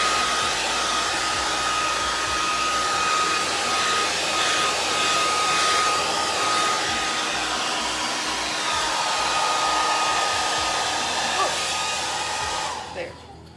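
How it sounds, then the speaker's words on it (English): A hair dryer blows with a loud, steady whooshing hum that runs unbroken for several seconds, then cuts off abruptly at the end. "Couldn't turn off my dryer."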